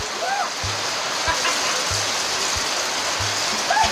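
Steady, dense rain pours down in an African village, a constant close wash of droplets and splashing, with faint voices at moments beneath it.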